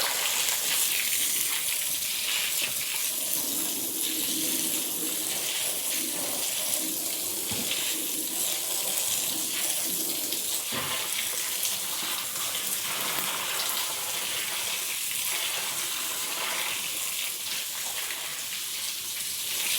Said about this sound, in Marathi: आता मी हिला पाणी भरून ठेवते.